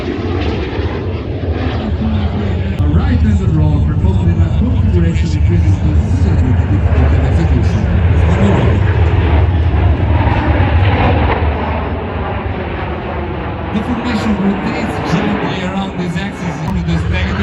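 Frecce Tricolori Italian Air Force jets flying a roll at a New York airshow, heard as a loud, steady roaring jet engine drone that swells slightly and holds throughout, with a commentator's voice over the public address underneath.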